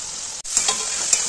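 Grated ridge gourd sizzles in a hot pan with a steady, loud frying hiss, broken briefly by a stir and a couple of soft scrapes.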